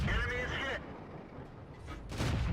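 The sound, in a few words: tank gun firing in video game World of Tanks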